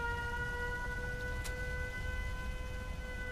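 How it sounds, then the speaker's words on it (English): A steady electronic siren wails continuously at a Fallout 4 castle base, holding several sustained tones at an even level over low background rumble throughout. "I would love to know how to get the siren to go off from the tripwire"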